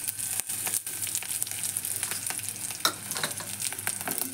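Dry red chilli frying in hot oil gives a steady, close sizzle with occasional crackles and pops, carrying on without pause and with no talk.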